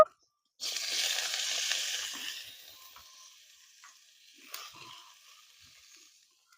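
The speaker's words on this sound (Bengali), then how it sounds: "উচ্ছেগুলো ভেজে নেব।" Bitter gourd frying in oil in a pan gives a bright hiss that swells after a brief silence, then fades to a quieter sizzle with a small clatter near the end.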